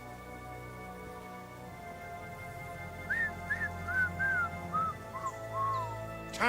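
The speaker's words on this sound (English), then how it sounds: "Your whistling is getting on my fucking nerves the whole way." A character in Kingdom Come: Deliverance 2 whistles a short melody of distinct rising and falling notes over steady ambient background hum. The whistling is moderately close and continues for several seconds, with no talk.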